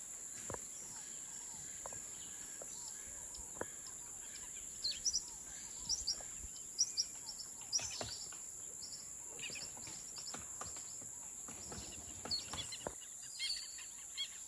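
Scattered bird calls and chirps ring out through steady insect buzz in the morning around a Mayan village among the trees, some close and sharp, others distant, with a constant high whine underneath.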